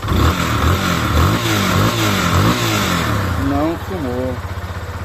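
A Yamaha Fazer 250 motorcycle engine idles and revs with an abnormal mechanical noise, a steady mid-range rumble that continues under a man's speech throughout.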